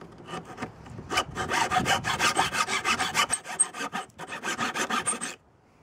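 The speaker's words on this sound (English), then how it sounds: "you can just take a coarse file or whatever file. Just clean out the edges there." A coarse file rasps along the edges of a wooden spear prop in a quick series of short rhythmic strokes, close and crisp, stopping abruptly near the end with no talk.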